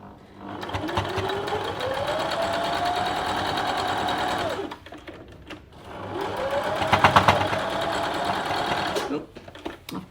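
A home sewing machine stitches through thick quilt-block seams in two steady runs of fast, whirring motor hum, each lasting a few seconds, with a short pause and light handling clicks between them, close and fairly loud.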